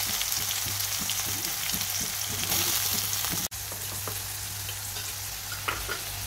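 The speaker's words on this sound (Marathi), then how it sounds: "कांदा छानपैकी तळून निघेल" Chopped onion frying in oil with cumin and crushed garlic for a brinjal bharit, a loud continuous sizzle with rhythmic stirring scrapes in the first half, then a softer, steadier fry after a brief break.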